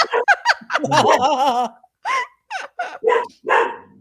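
A dog barks repeatedly in a room during a live podcast, loud and close. A burst of yips and whining howls is followed by several sharp separate barks.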